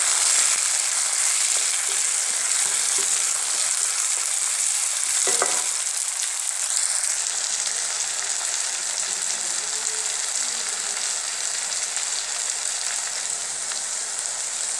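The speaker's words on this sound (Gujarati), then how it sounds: "જે આપણે કાપેલા ટામેટાં લીધું એ નાખીશું આપણે એમાં ચડવા માટે. એને પણ મિક્સ કરી દઈશું સારી રીતે, એ સાતળી લઈશું બરાબર આપણે." Chopped tomatoes sautéing in a pan with bread for rumble tumble, giving a steady, dense sizzle throughout with occasional faint stirring scrapes underneath.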